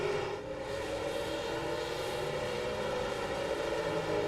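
A race car engine in a sim racing video game at Nashville holds a steady, high, buzzing drone that stays at an even, loud level without pause, with no voices over it.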